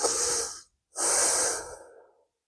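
Two deep, airy breaths during a yoga practice, a long breath in, a brief silence, then a longer breath out that tapers away, close and clear with no talking.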